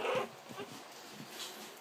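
Puppies coming out of their crate make soft, high whimpers and small yelps, one brief louder cry at the start followed by faint scattered whines.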